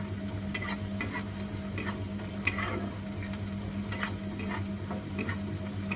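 Spices sizzle in a pan ahead of drumstick leaves, with a soft, steady frying hiss, light stirring scrapes and a couple of sharp utensil taps over a faint background hum, with no voices.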